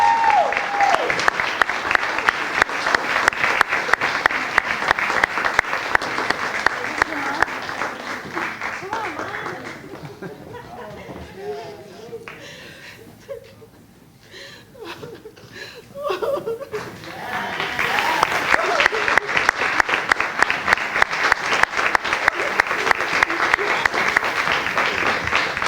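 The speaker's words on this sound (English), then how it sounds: "So give Dr. Harmon and Wilmington University a big round of applause" Audience at a county scholarship awards event giving Dr. Harmon and Wilmington University a big round of applause, loud sustained clapping that fades midway into scattered laughter and murmurs, then swells back into full applause.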